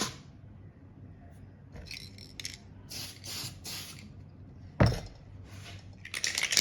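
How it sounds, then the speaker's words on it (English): Primer misted in light bursts onto a curved rear wing for a Dodge Viper model car, several short hissing sprays close by, with faint clinks and taps between them. "I'm just going to put a light coat of primer on that."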